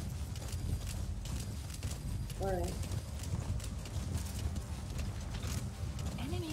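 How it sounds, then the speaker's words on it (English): Horse hooves clip-clop in a steady rhythm throughout a ride in Metal Gear Solid V, moderately loud beneath someone talking, with a brief horse snort partway through. "No, you're riding your horse, make me remind of something."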